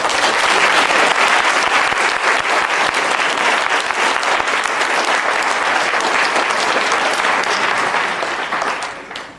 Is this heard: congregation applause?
yes